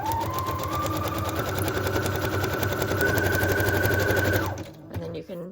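A sewing machine stitching through paper runs steadily and loudly at a fast, even motor whir, then stops abruptly near the end, followed by a few faint handling sounds.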